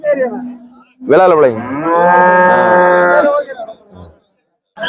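Cattle at a cow market low with long, loud moos, one drawn-out call lasting over two seconds after a shorter one, with faint market noise around them.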